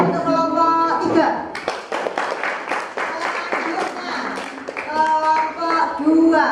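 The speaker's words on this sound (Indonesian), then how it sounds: "tepuk tangan untuk kelompok 3." A classroom of students applauds a student group in an Indonesian school lesson, a burst of scattered hand clapping lasting a few seconds, with a voice speaking just before and after it.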